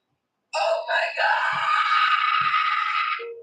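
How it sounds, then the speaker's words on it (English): A person lets out a loud, drawn-out scream that wavers in pitch and holds for nearly three seconds before cutting off abruptly. "Why are you screaming?"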